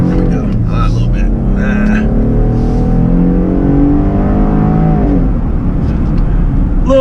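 A supercharged 2020 Jeep Gladiator Sport engine climbs in pitch as it accelerates, a loud rising drone that drops sharply at a shift, with someone talking over it.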